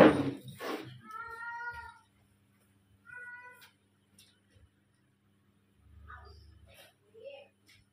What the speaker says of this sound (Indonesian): kucing gue pagi-pagi udah minta kawin